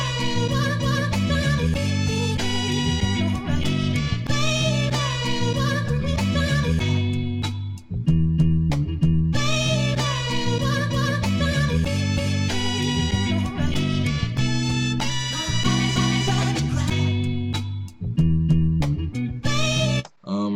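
A chopped soul sample for a boom bap beat plays as a looping melodic phrase, with clipped vocal and instrument fragments repeating in a steady cycle at close, even volume.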